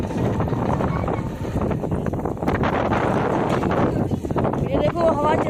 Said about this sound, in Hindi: ये देखो हवा चल रही, तूफान आ गया गाइस